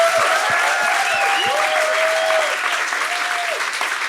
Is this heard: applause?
yes